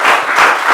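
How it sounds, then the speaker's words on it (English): Audience applause at a couples game show, a short burst of dense, steady clapping from a crowd, fairly loud and close. "Round of applause for them"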